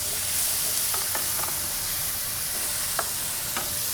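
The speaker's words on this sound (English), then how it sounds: "So we're going to get them into the pan." Potatoes sizzle steadily in a hot pan, a constant broadband frying hiss with a few faint stirring scrapes and clicks near 1, 1.5, 3 and 3.6 seconds.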